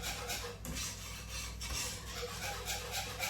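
A whisk scrapes steadily and faintly through milk and flour for sweet pastry, a soft rhythmic rubbing of quick repeated strokes.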